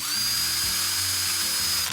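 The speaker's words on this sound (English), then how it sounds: "I started drilling and made lots of random holes" An electric drill whines at high speed, its motor pitch dipping and rising briefly as it bites, running continuously before cutting off at the end.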